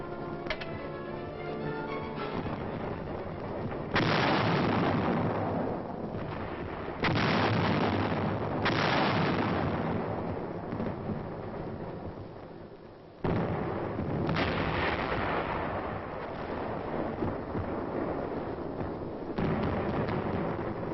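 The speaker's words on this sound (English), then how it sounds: "the big guns from this forward position concentrate their fire on known and suspected targets" Self-propelled 155mm guns firing from a forward position in the Korean War, a series of loud, heavy booms at irregular intervals with long rumbling tails, captured in older, band-limited recording.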